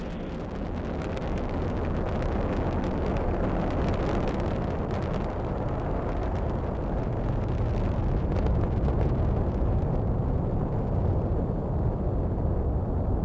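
An Atlas V rocket's RD-180 engine roars steadily through its launch, a continuous, broad, rumbling thunder that holds without a break from start to finish.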